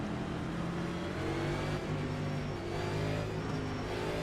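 A NASCAR race car engine in a racing video game holds a steady, droning high-revving note throughout, with slight pitch shifts and no talk.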